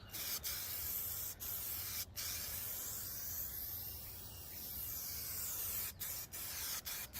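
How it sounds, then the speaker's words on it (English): A continuous aerosol spray paint hiss sprays steadily for several seconds over a vehicle chassis frame rail outdoors, broken by a few short gaps where the nozzle is released; no talking. "the smoother you can be with spray paint and overlap it and stuff and keep it wet enough"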